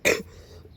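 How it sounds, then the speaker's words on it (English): A single short, close cough, a sharp throaty burst followed by a quieter second catch of breath a moment later, alone without talk. "excuse me, my cough"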